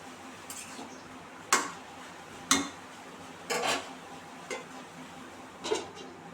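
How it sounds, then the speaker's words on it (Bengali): A lid is set on a cooking pot of bottle gourd, producing a few sharp metallic clanks and light rattles spaced about a second apart over a quiet background. "ঢাকাটা দিয়ে দেবো এখন"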